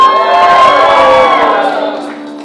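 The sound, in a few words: crowd cheering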